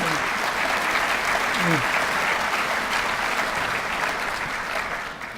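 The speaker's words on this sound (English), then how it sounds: "Let's give Jim Phelps a round of applause." An audience at a scholarship awards ceremony applauds Jim Phelps, the superintendent, with steady, full clapping throughout and a brief voice heard early on.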